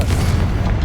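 Confringo blasting curse explosion in Hogwarts Legacy, a short, dense, loud boom with heavy low rumble filling the whole moment.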